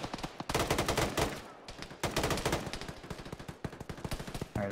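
Rapid automatic gunfire in the military shooter Arma rattles in dense bursts, with closely spaced loud shots and brief gaps between strings.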